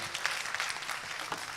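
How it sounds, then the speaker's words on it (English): Scattered audience clapping at a youth centre partnership launch event in Stratford, a brief round of fairly soft, loose claps with a few sharper individual hits. "a big round of applause for UEL"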